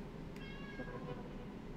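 A pet cat gives a single short meow, faint and somewhat distant over a low background hum, followed by quiet.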